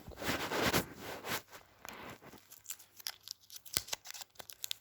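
A packet of Olips Soft Mints candy is torn open: a burst of loud plastic tearing and crinkling, then quieter scattered crackles and rustles of the wrapper, close by with no talk.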